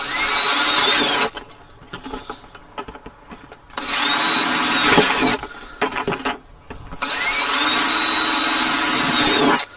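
A power drill with a 1/2-inch bit whines loudly in three long bursts, grinding through a plastic bucket, with clattering and handling noises in the gaps.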